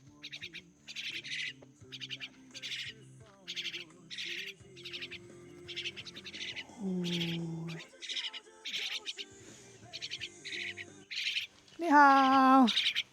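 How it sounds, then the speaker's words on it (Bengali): Pet myna birds chirp in quick, regular bursts close by, with a few longer whistled calls breaking in and a brief voice heard partway through. "এই দেখেন এনার এনার পাখি পোষা পাখি।"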